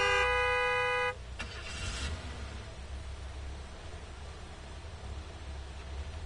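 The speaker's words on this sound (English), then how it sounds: "Do not honk at the working man." A single long car horn blast in the Gas Station Simulator game, loud and steady for about a second before cutting off, leaving a low engine rumble and faint ambient noise.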